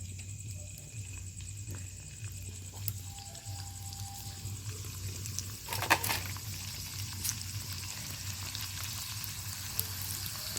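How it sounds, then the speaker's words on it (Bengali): Pieces of nimki dough sizzle steadily in hot oil in a village kitchen, a continuous close frying crackle with a low hum beneath and a brief louder burst midway. "তেলটা গরম হয়ে গেছে। তো এইভাবে একটা একটা করে দেবো।"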